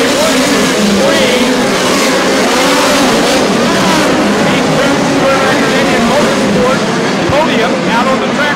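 Midget race cars roaring around a dirt oval during a POWRi Lucas Oil National Midgets event, loud engines revving and whining continuously as the field passes close by, with an announcer talking over the racing.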